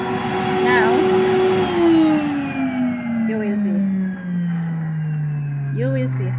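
An all-purpose household vacuum cleaner runs steadily, its motor whine sliding gradually lower in pitch as it works, while someone talks over it throughout.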